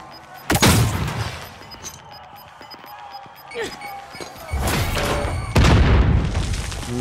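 Grenade explosions and gunfire in the video game Call of Duty: Modern Warfare, with several heavy booms and sharp shots spread across the battle, some close and loud, with rumbling tails between them.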